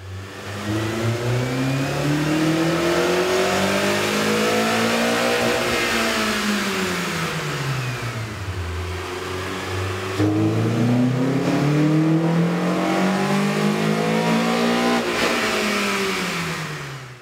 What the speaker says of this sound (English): Here's a comparison of the car's sound on the dyno with the stock OEM system versus AEM's air intake.